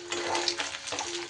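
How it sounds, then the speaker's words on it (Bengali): Food frying gently in a pan over low gas, a soft, even close-up sizzle with a faint steady hum underneath and no talking. "গ্যাস কমিয়ে আস্তে আস্তে ধীরে ধীরে কিন্তু খুব সুন্দর করে ভেজে নিতে হবে"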